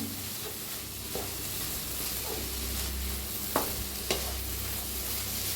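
Coriander is stirred into bun bhaji in a pan: a soft, steady background sizzle with low scraping of the spoon and a couple of sharp clicks near the end, fairly quiet and without voices.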